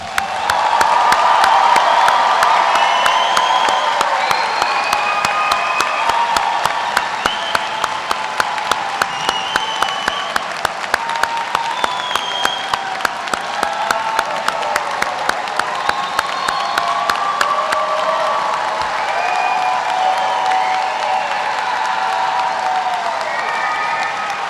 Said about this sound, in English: I do want to congratulate the graduates one last time, all together. Big round of applause.